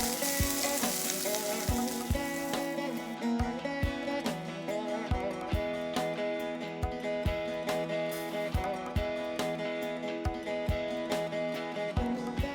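Sliced long onions frying in hot oil with black pepper and green cardamom for aloo soya sabzi: a steady, close sizzle with rhythmic stirring scrapes throughout, and no talk.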